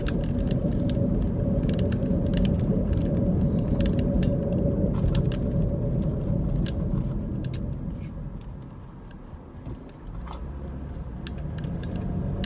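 A car driving through the older residential streets of Sweetwater, Tennessee, with a steady low engine and road rumble from inside the cabin, light rattles and clicks, and the hum dipping briefly as the car slows before picking up again.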